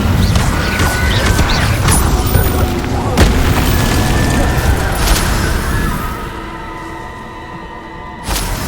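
Incendio fire spell cast in Hogwarts Legacy, a dense loud roaring burst with booming impacts that stays intense, then fades to a quieter tail before a short final flare.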